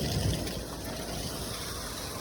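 Water from a pressure washer tank is dumped into a street storm drain, making a steady, fairly loud rushing gush that continues without a break.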